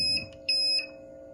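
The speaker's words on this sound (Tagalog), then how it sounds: "So i-stop na yung alarm." An automatic alarm signals that an empty tank or day bin needs refilling, sounding three bright, electronic beeps in quick succession, loud and close, with no voices.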